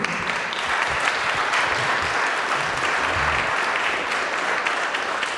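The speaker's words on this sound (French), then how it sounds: "Je pense qu'on peut l'applaudir." Sustained audience applause at a French testimony event, a steady dense clapping from a full room that runs loud and unbroken throughout.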